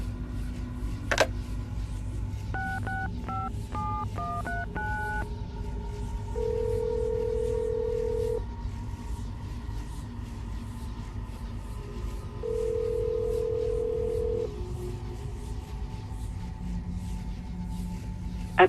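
Telephone dialing in an Assassin's Creed Brotherhood cutscene: a burst of quick touch-tone beeps, then two long ringback tones separated by a pause, over a low ambient hum.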